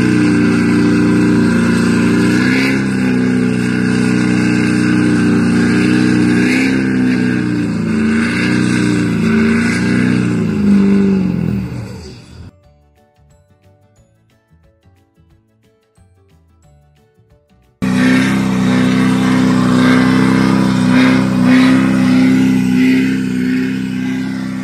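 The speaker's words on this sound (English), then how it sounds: "Here's the video of the truck trying to get it out." A truck engine roars and revs loudly and steadily while trying to pull a car stuck in mud, cutting out abruptly to near silence for several seconds before the loud engine noise returns.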